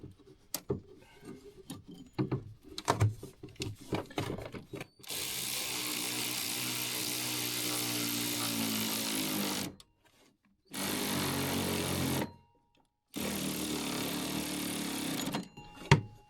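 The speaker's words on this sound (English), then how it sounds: "sounds like my battery's going dead, but I will get that torqued the rest of the way" A cordless impact tool torques a bolt on the chain case of a 1999 Polaris XCR800 snowmobile, firing three sustained loud bursts separated by short pauses, preceded by scattered clanks and handling noises.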